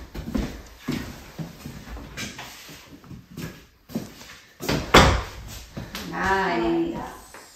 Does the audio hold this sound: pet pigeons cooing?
no